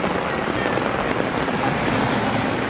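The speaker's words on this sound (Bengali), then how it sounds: "প্রচুর জোর বৃষ্টি এসে গেছে।" Heavy rain pours down in a dense, steady roar, close and loud throughout with no break or voices.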